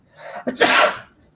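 A single sharp human sneeze, close and loud, with a short breathy intake just before the burst; no talking over it.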